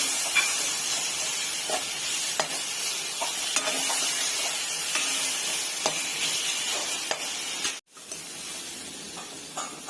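Dry masala for Maharashtrian katachi amti roasts in a hot pan, a steady close sizzle and hiss broken by scraping stirs and clicks, with a brief silent gap near the end.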